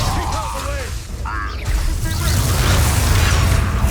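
A Bombarda blasting spell from Hogwarts Legacy goes off as a loud, close booming burst with crackling debris, set against the steady rumble of a game fight, with brief voices under the noise.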